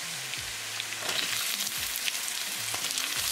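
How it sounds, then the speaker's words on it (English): Chopped onion fries in a pan with garlic, giving a constant rain-like sizzle close up, with occasional low scraping thuds from stirring and no one talking. "Cook onion until they are nicely translucent."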